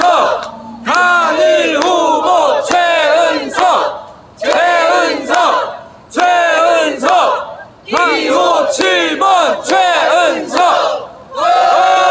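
At a Korean election campaign rally, a crowd chants a city council candidate's name in loud, rhythmic bursts with 3-3-7 patterned clapping, the shouts repeating in regular groups separated by short pauses.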